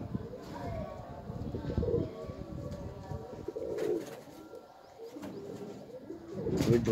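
Cheena breed pigeons coo repeatedly at close range in a loft on a sunny day, soft throaty rolling calls over a busy background.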